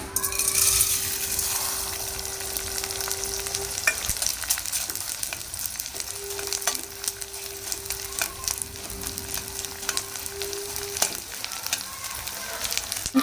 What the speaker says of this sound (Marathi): आपण डिंक तळून घेऊया